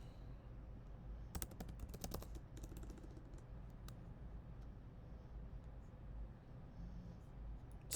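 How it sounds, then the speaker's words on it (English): Typing on a computer keyboard while entering names into an online quiz, with quick clustered key clicks early on and then sparser, softer taps at close range. "I'm literally just typing in names at this point."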